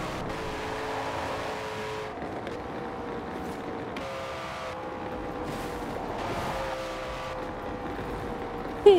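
A car engine in Forza Horizon 4 played with a steering wheel revs and pulls through gear changes in a race, a continuous droning whine that rises and dips with shifts, with no talk.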